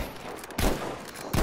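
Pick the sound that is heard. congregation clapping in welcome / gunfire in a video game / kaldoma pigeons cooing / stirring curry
gunfire in a video game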